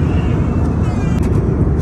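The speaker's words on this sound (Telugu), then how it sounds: "సో ఇప్పుడు మనం ఫ్లైట్లో ఉన్నాం" Steady, loud broadband roar of airplane cabin noise during a flight from Chennai to Dubai, continuous with no breaks.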